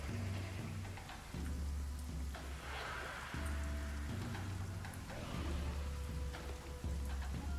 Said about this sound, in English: Oh, is that lightning and thunder?